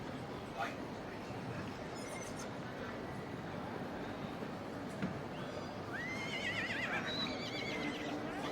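A horse whinnies in the main show ring at the Royal Welsh Show, a moderately distant call rising over a steady crowd murmur and background hubbub, with faint hoof sounds.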